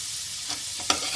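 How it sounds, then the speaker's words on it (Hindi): Onion and broccoli lightly sautéing in a pan, a soft steady sizzle with a few quick stirring scrapes near the end, close and moderately loud with no voices. "या तो ब्रोकली थोड़ी देर बाद दूंगी, हल्का सा सौते कर लूँगी आई थिंक"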